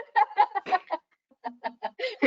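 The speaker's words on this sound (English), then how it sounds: "Krishan's pets are the birds. The birds outside." Pet chickens clucking outdoors in a rapid run of short, close calls, a brief pause, then a second burst of lower, throatier clucks ending in a rising note.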